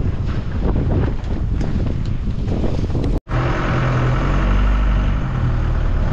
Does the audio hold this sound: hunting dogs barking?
no